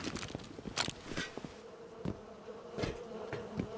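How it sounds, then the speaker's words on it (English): Bees buzz continuously in a video game, a steady droning hum broken by intermittent sharp clicks and taps, with no talk. "Lots of bees over here."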